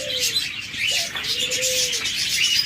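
Soft, low dove coos repeat a few times over a busy background of chirping birds at a bird market, fairly close.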